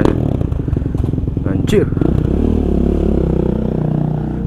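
A new 150cc motorcycle engine revs loudly up close, with rising clattery throttle bursts that settle into a steady drone; someone speaks briefly over it.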